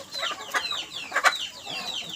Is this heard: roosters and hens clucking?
yes